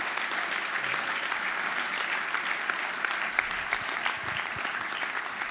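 Crowd at a night church service in Geneva, Switzerland, clapping and acclaiming, a dense continuous wash of applause heard from some distance, fairly faint and unbroken throughout.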